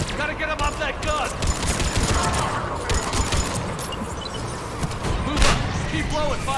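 Dense automatic gunfire from a mounted gun in the video game Mass Effect, a loud, sustained barrage of bursts and impacts with a voice shouting orders over the combat.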